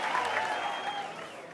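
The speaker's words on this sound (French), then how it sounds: "un applaudissement pour tous les participants qui ont été fabuleux" A room full of people clapping steadily, a dense continuous patter of applause that holds at an even level throughout.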